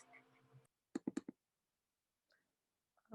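Sharp computer mouse clicks, a quick burst of about four close together, then a faint click and a short low sound near the end, in an otherwise quiet room.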